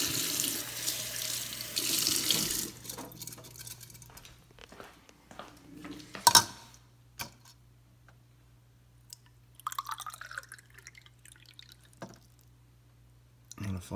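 A tap runs with a loud rush of water for a few seconds and then stops. Scattered clicks and a few faint noises follow in a quiet room.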